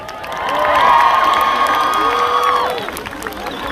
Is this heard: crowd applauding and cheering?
yes